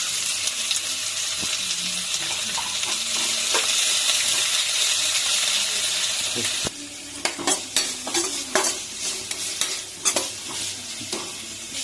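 Capsicum and beans stir-fried in a pan, a steady sizzle for several seconds before it drops off into scattered scraping and stirring clatters with bursts of frying.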